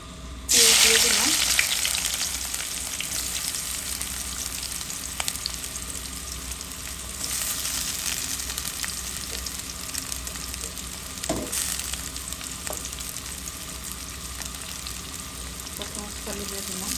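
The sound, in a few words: frying in oil in a wok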